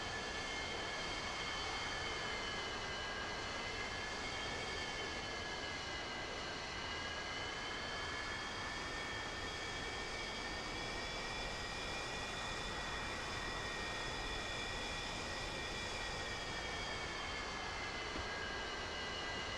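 Twin jet engines of a Su-35S fighter idle in the DCS flight simulator, a continuous steady whine with tonal hum, unchanging and alone throughout.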